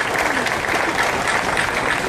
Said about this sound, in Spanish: Y un aplauso para esta señora